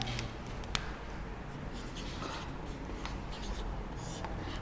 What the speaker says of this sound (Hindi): हम लिखेंगे यहाँ पर